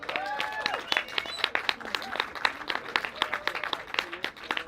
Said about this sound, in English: Give a massive round of applause for Alan Wolfson.